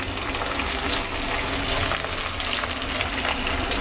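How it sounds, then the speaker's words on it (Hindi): Capsicum frying in a pan over a high flame, a dense, loud, continuous sizzle close by with faint stirring. "ये हमारा चला गया कैप्सिकम, सही है। ये फ्राई होगा।"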